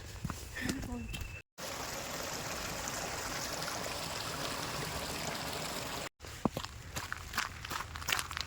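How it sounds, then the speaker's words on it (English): A stream in a nature reserve flows as a steady, close wash of water, with footsteps and faint rustling at the start and end. "Birds, you can hear birds, you can hear water."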